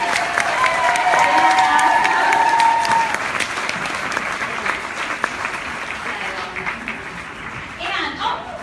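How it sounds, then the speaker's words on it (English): Gala audience applause fills a large room, steady and loud for several seconds before thinning out, with a whistle or cheer rising over it early and voices coming through as the clapping fades. "Give them a round of applause."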